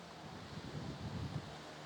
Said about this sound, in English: And as you can hear, it is very, very windy.